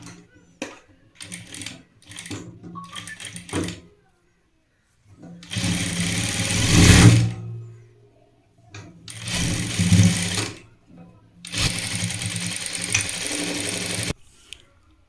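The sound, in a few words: sewing machine stitching folded sleeve of a burqa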